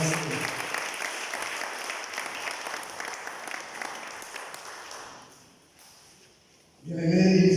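A church congregation at a seminar applauding loudly, dense sustained clapping that gradually fades out over several seconds before a voice begins speaking.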